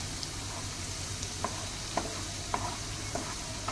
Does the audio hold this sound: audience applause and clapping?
no